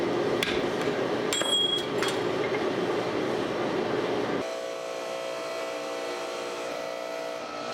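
Hammering a drift through the eye of a forged axe head, with a few bright metallic ringing strikes early on over steady workshop machinery hum. The hum then drops to a quieter mechanical drone.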